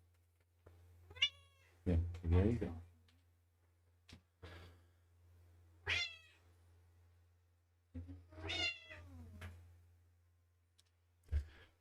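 A cat meows several times, close by, in short separate calls with quiet gaps between them, over a steady low hum; a person's voice briefly speaks.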